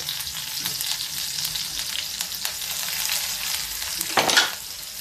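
Sliced onions fry in an iron wok with a steady, close sizzle and faint stirring clicks, then a louder burst of crackle near the end, with no talk.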